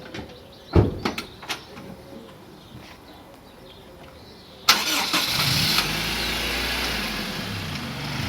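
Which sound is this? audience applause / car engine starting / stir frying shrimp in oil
car engine starting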